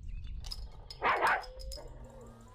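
A dog barks in a video game, one loud burst near the middle rising above a steady background of game sound, with quieter game effects before and after it.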